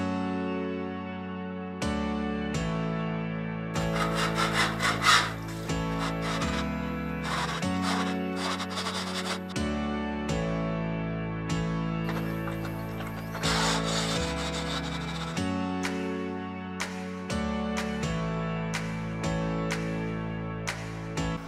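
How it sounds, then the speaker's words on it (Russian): A homemade wall chaser cuts cable grooves into a house wall, its motor whining steadily while grinding and rasping bursts rise and fall over about twenty seconds, loud and close. "выборка штроб под кабеля с помощью этого штробореза оказалась не столь удобной"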